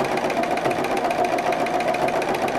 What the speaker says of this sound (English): I'm going to stitch along the edge of these, and this is sort of like a little back and forth stitch